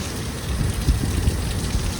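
Heavy rain and gusting wind right by the seashore, a house about 100 to 150 metres from the beach with waves running high; a dense, steady low roar fills the scene with a few heavier bumps of wind, no voices.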